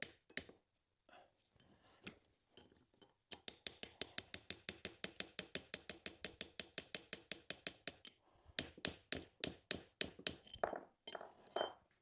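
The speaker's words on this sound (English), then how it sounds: "I'm only using a small pin hammer because I don't want to apply too much pressure to anything." Rapid, steady metallic tapping of a small pin hammer on a metal drift during a drill restoration, dozens of light, evenly spaced strikes, close and fairly quiet, with a few irregular taps before and after.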